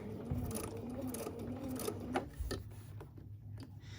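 A Bernina sewing machine stitches a quilt block seam in a continuous rapid run, slowing and pausing briefly near the end with a few clicks.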